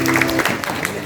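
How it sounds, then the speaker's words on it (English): Brief burst of audience clapping at a medical college event, close and moderately loud, with scattered individual claps under a voice. "Let's have a round of applause for Anuj Pachhel"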